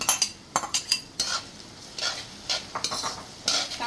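Onion being stirred into sautéed ginger and garlic in a pan, with a soft sizzle under repeated scraping stirs of a utensil against the metal, close and fairly quiet, without speech.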